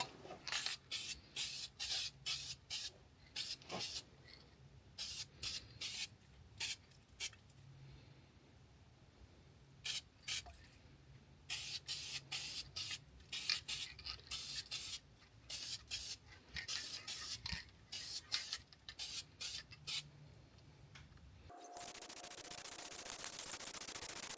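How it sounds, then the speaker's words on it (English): Repeated short hissing bursts from a can of high-temperature copper gasket sealant sprayed on a diesel generator gasket, some quick and some held longer, close up and quiet, followed by a steady louder hiss at the end. "we're going to use some of this copper spray gasket high temp sealant"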